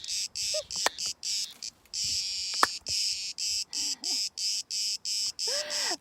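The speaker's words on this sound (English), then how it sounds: "the bugs aren't going to stop this time. They've had enough of silence." Insects chirping outdoors, a loud, close, high-pitched cricket-like trill pulsing in regular bursts with short gaps, with a few faint bird calls in the background.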